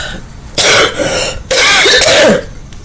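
A person coughs and clears their throat in two loud, rough bursts separated by a short pause, close to the listener with quiet room tone between.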